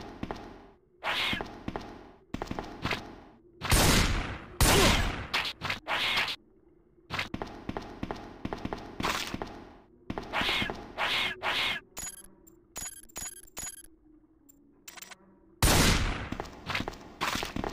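Gunfire in Resident Evil 2, loud, sharp shots fired in irregular bursts and single reports, with heavy thumps and brief gaps between volleys.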